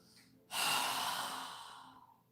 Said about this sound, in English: inhaling through our nose and exhaling with our mouth open with a strong exhale